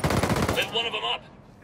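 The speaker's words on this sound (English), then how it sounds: "Firing at the enemy." Automatic machine gun fire in the tactical shooter Ghost Recon Breakpoint, a loud, rapid burst of shots lasting under a second, followed by a brief ringing tail and quieter in-game sounds.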